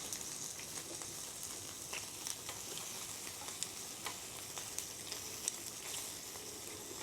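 Samgyupsal pork belly sizzles and crackles steadily as it fries, a close, continuous hiss with small pops and occasional stirring scrapes, with no talking.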